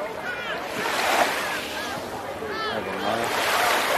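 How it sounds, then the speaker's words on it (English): Sea waves roll in at a Hurghada beach resort, a steady surf wash with wind buffeting the microphone while voices can be heard talking over it. "This is the sea and this is the general view."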